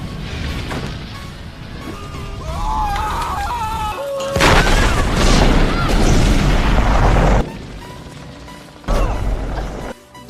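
A film explosion strikes a sheriff, a loud booming blast with crashing debris that erupts midway through a tense horror-movie scene, surrounded by dramatic music and other impacts.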